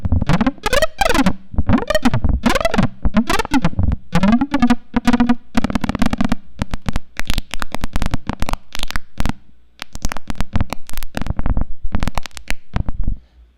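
A synth in Massive X routed through a squelchy distortion, playing loud, gritty, rhythmic stabs and sweeps in repeating bursts with brief gaps between phrases.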